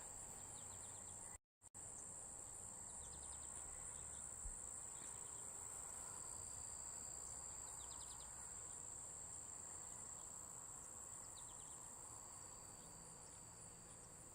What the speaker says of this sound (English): Birds sound happy, lots of insects.